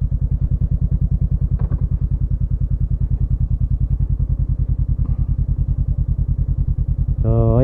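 A motorcycle engine idles close by with a steady, rapid low chugging pulse, loud and unbroken, with a brief rev or horn-like tone at the end.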